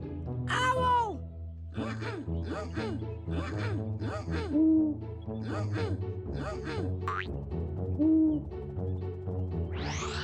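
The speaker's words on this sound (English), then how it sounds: "Owl! Owl!" A cartoon owl in a toddler's animal-learning animation hoots in a run of repeated, evenly spaced calls, mixed with springy boing-like effects.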